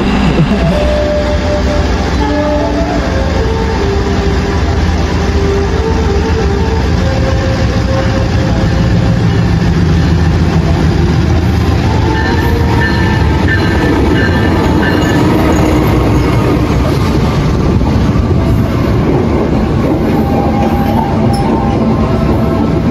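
The Argo Muria passenger train rumbles past slowly and steadily, loud and close, with continuous rolling noise and faint clanking throughout.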